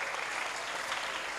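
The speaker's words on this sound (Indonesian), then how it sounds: "Tepuk tangan untuk anak-anak kita ini." A steady burst of hands clapping rises from an audience at a graduation ceremony for students. It sounds dense and continuous, slightly distant, with no voices over it.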